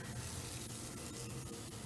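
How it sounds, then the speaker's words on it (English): Spraying around a potato plant into garden soil makes a steady, close hiss of fine mist, with a few brief pulses as the sprayer is pumped, heard alone. "I'm just going to spray, for the most part, around it in the soil"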